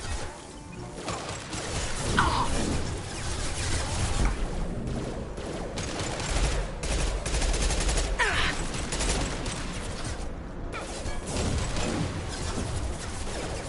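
Sustained gunfire in Mass Effect 2 on Insanity difficulty, with dense overlapping shots and bursts rolling on for the whole stretch, loud and close, plus a few sharp impact cracks and swishes along the way.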